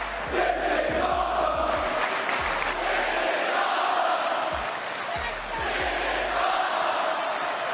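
A capacity wrestling arena crowd roars and chants in a dense, sustained wall of voices, rhythmic swells suggesting a unison chant that carries throughout.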